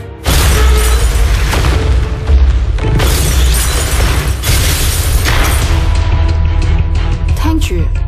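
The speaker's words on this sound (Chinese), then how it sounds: "要欣赏最完美的烟花表演，就应该等整个城市都黑麻麻。" Fireworks boom and crackle through a movie trailer's dense soundtrack, with loud, continuous bursts layered under music and other effects for the whole stretch.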